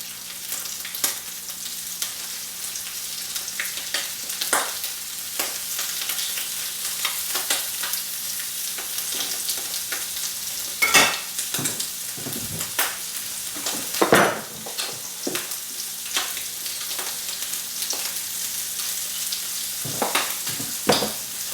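Eel fries in a pan after being flipped, a steady close sizzle running throughout, broken by occasional sharper crackles, spatters and stirring scrapes.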